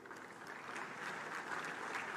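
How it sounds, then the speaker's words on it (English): A crowd claps steadily at a bank's annual meetings, a moderate round of applause that swells slightly and continues throughout. "Please welcome him warmly with a round of applause."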